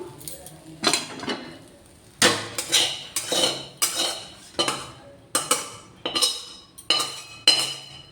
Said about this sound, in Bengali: এই দেখো বন্ধুরা, আলু ভাজাটা হয়ে গেছে, ভাজাটা নামিয়ে নেব